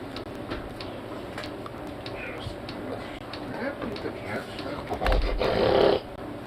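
A dog snorts and snuffles like a little piglet, giving rough nasal grunts that build into a louder burst near the end, with a person talking over it.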